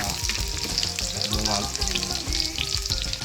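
Plenty of onions with small local garlic frying in a pan, a dense, loud, steady sizzle and crackle up close, alone without any voices.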